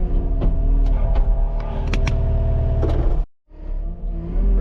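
Skid loader engine idling and running on a house construction site, a close, loud diesel rumble with clanks and knocks over it, cut by a brief drop to near silence before the engine noise returns.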